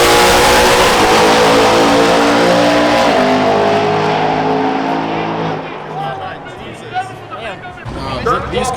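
Drag race cars at a high-powered racing event scream off the line at full throttle, a loud, rising engine roar that recedes into the distance, with some crowd noise and voices underneath.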